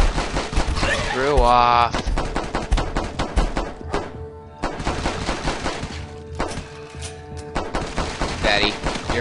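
Rapid gunfire in The Last Stand 2 rings out in sharp repeated bursts and sustained volleys, loud and close, while someone talks over the shooting.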